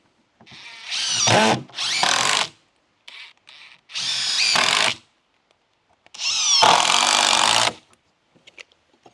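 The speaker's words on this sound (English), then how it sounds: "And then put another 3 screws in." Power drill driving screws into the cradle of an 8-foot panoramic barrel sauna during installation, four loud bursts of whirring with short pauses between them, close by and with no talk.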